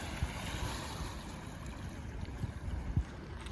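Gentle waves lap along a quiet cottage coastline, a steady wash of surf with soft wind noise and a few low thumps of water, no voices.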